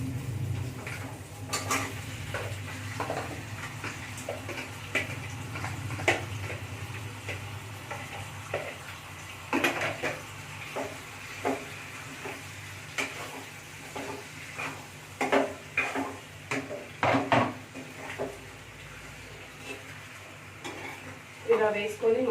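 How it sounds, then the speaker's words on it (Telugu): Fish pieces frying in a pan with onions, tomatoes and green chillies, a steady low sizzle under repeated clinks and scrapes of a spoon stirring against the pan, close up, with no talking. "మనం ముందుగా కలిపి పెట్టుకున్న చేప ముక్కలు వేసుకొని ఫ్రై చేసుకుందాం"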